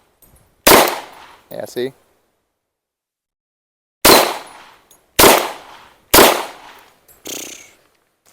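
Gunshots from a scoped rifle fired at steel targets outdoors, five loud sharp reports spaced a second or more apart, each ringing off briefly, with a short spoken remark between shots.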